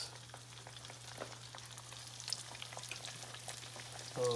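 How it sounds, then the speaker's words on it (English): Atayef pancakes frying in hot oil give a faint, steady crackle with scattered light pops beneath a low electrical hum, quiet and without voices. "It's time to fry these bad boys up."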